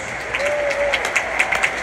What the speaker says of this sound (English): Why don't we give them a hero's applause?